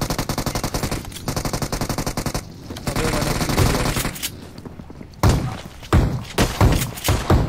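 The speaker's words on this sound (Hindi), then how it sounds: "कोई पीछे से डीपी चला रहा है इससे" A DP light machine gun fires in a video game shooter, sounding as loud, rapid bursts of closely spaced shots, followed by heavier, more spaced-out gunfire blasts.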